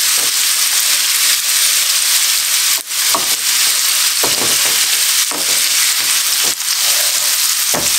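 Chorizo crumbled in a pan with potatoes and onion, sizzling in a loud, steady frying hiss with occasional stirring scrapes and crackles, no voices.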